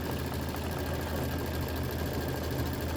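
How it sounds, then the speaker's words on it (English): Continuous whirring hum of a sewing machine stitching a quilted mug rug, a steady motor drone with an even stitching rhythm throughout and no voices. "This is 3 minutes of stitching."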